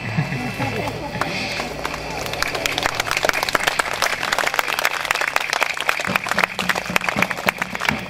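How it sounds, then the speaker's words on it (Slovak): A crowd applauds a performer at a 2013 gathering in Turňa nad Bodvou, dense continuous clapping over several seconds that stays even and lively, with faint background murmur. "A ďakujem aj za ten malý potlesk"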